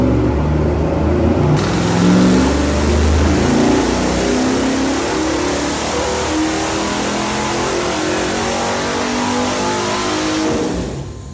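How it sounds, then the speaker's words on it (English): A 440 big block V8 bound for a '68 Charger makes a full pull on an in-house engine dyno, a loud, close, sustained roar that climbs and holds, with no voices over it. "We have our own in-house engine dyno, and we're going to go ahead and make a pull here."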